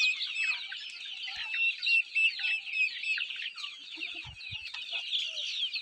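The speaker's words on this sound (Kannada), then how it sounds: "ಸೊ ಈಗ ನೋಡ್ತಾ ಇರುವಂಥದ್ದು ಮನೆ ನಾಟಿ ಕೋಳಿಗಳು ಕೂಡ ಅಲ್ಲೇ ಇದ್ದಾವೆ." Native country chickens on a rural farm cluck repeatedly in a steady, busy chatter, fairly close and alone, with a few soft knocks underneath.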